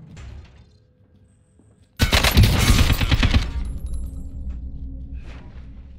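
Rapid automatic AK rifle fire in Call of Duty Warzone, a loud sustained burst that starts abruptly and rattles on for about a second and a half before fading into quieter game ambience.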